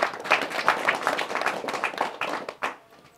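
Audience clapping at a political rally in support of the Bloc Républicain, a dense patter of hands that swells and then thins out toward the end, with some speech mixed in.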